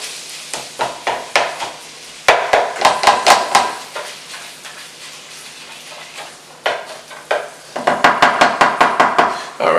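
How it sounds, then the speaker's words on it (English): A utensil scrapes and taps against a skillet as ground meat is broken up and pressed flat, with quiet sizzling underneath. Rhythmic clanks come in bursts with brief pauses, close and fairly loud, and no voices. "we'll make sure we break that down and kind of get it flat in your skillet."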